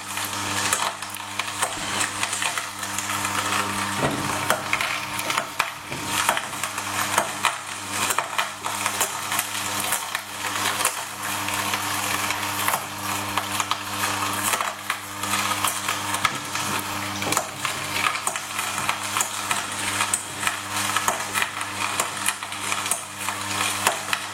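An Angel juice extractor presses carrots with a pusher, giving a steady mechanical hum from the small screw, overlaid with repeated woody crunching, grinding and creaking as the carrot pieces are crushed, close and continuous.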